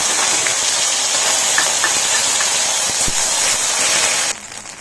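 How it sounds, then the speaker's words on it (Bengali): Chopped ginger and green chili hit hot oil, raising a loud, steady, close-up sizzle that hisses on for several seconds before dropping abruptly to a quieter crackle. "তেল গরম হয়ে গেছে, এতে আদা এবং কাঁচা লঙ্কা কুচি আমি দিয়ে দিই"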